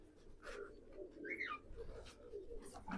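Pigeons in a loft coo softly in short repeated calls, faint and a little distant, with little else around them.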